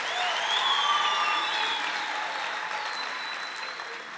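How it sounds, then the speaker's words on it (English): Audience applause at a university welcome ceremony after a marimba band performs, with a broad wash of clapping that fades slowly, alongside lingering ringing tones. "Another warm round of applause for the marimba band."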